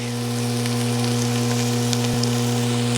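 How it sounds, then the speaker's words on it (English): Five garlic cloves sizzle steadily as they fry in a pan for a soup, a continuous close frying hiss with a low hum underneath and no talking. "And now I'm going to add in a lot of garlic"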